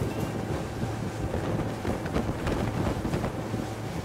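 A motorboat fitted with Zipwake trim tabs runs in gear across open water, a steady low engine drone mixed with rushing wind and splashing hull noise, no talking.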